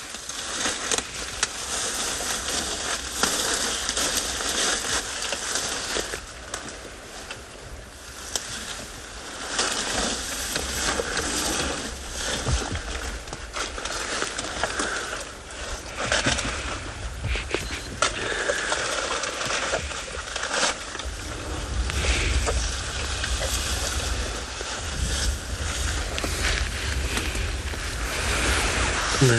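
Elephants close up on a South African morning safari, with steady chewing, crunching and snapping branches and deep breathing over a broad rustling, windy background.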